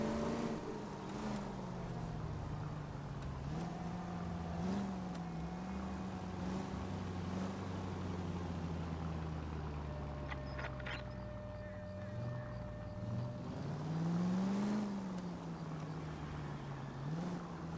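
Game car in L.A. Noire driving steadily with a continuous engine drone whose pitch rises and dips, while someone speaks over it in short lines.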